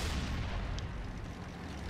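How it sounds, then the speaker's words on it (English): Explosions from running over objects in a tank video game form a dense, continuous low booming rumble that stays loud throughout, with no clear breaks between blasts. "look at those huge explosions from those tiny things that I'm running over"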